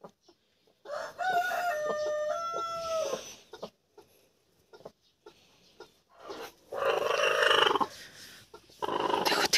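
Brooding hens settled over hatching chicks in a coop, with several bursts of clucking and crowing-like calls spread across the stretch, fairly close, broken by short pauses and rustling.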